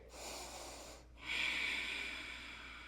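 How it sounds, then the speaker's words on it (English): Slow, steady yoga breathing heard up close, a long airy inhale after a brief pause, then a sustained hissing exhale that carries a faint wheeze through the nose. "2 more breaths here"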